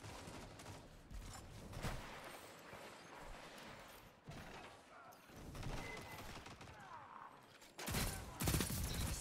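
Bursts of rapid gunfire from a pulse rifle in Destiny 2 PvP crackle in clusters, with louder volleys near the end, over faint mechanical clicks and no speech.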